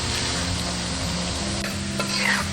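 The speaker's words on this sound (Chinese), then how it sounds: "锅中倒食用油， 下入葱姜蒜，小火慢炸" Scallion, ginger and garlic frying slowly in oil over low heat in a wok, a steady soft sizzle with light stirring scrapes running throughout, no voices.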